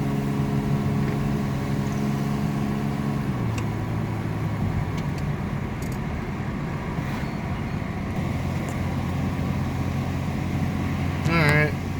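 A 1987 Chevrolet Celebrity Eurosport drives along, its engine droning steadily as the slipping transmission moves from first to second, with the pitch dropping partway through and a brief squeak near the end.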